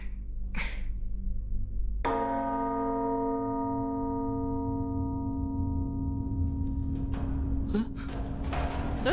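A church bell in Milgram strikes once with a sustained, slowly fading ringing tone over a steady low rumble, with brief faint sounds before and after.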